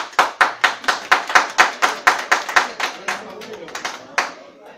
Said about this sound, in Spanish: Venga, va, aplaudir.